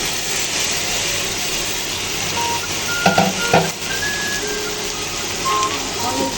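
Rice frying in a pan with lightly browned onions, giving a steady broad sizzle with a few clattering stirs in the middle and faint electronic beeps; a person speaks over it.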